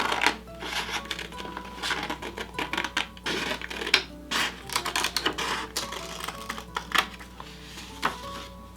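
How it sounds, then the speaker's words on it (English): Scissors cut paper in a preschool class: a quick run of crisp, irregular snips and rustles, fairly close, over a faint steady tonal background. "Turn the paper, not the scissors. Open, close, open, close."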